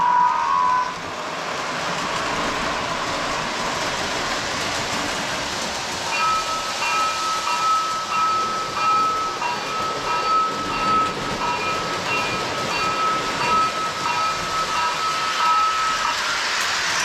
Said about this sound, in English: So this is the Williams Girl set with the GG1 engine, with its consist of pastel colored cars.